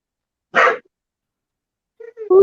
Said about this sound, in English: We got the dog in the room.